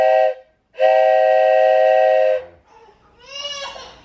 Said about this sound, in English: Bear, there's a train coming.